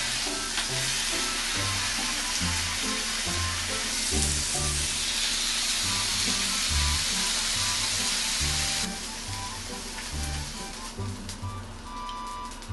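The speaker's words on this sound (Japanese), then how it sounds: "多分このホットプレートの音は結構でかいと思う" Beef tongue sizzles steadily on a hot plate at a solo yakiniku meal, a loud continuous frying hiss with crackles and low clinks of handling throughout, easing slightly toward the end.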